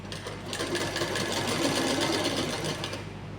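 Sewing machine running continuously, stitching a sleeve onto a garment, with a steady rapid needle rhythm close by for a few seconds before easing off at the end; no voices.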